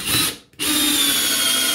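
A DeWalt DCF601F2 cordless screwdriver drives a screw into a workpiece, a steady loud motor whine broken by a brief pause before it resumes and runs on alone.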